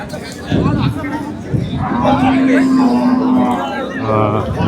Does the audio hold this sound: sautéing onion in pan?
no